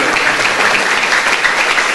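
Loud, continuous audience applause fills a book discussion event, an even wash of many hands clapping without pauses.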